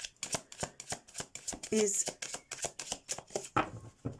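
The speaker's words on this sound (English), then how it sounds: "So let's get shuffling." Tarot cards shuffled in rapid, crisp riffling bursts with a regular rhythm, close and clear, while someone talks over the shuffling.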